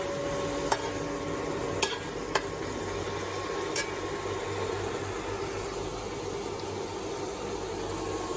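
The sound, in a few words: curry being stirred and fried (kasha) in a pan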